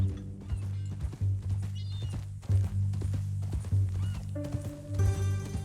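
Horse hooves clip-clop at a walking pace in the video game Red Dead Redemption 2, alongside occasional thumps and tonal game-like sounds, with a brief horse snort near the end.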